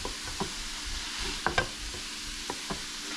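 Ground meat with taco seasoning stirred in a sizzling pan, with a soft fry underneath and several sharp spoon scrapes and clacks at irregular intervals.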